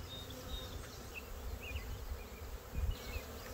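Honeybee swarm buzzing steadily as the bees leave a tree and crawl into a box, a soft continuous drone with a few louder passes of individual bees near the end, no talking.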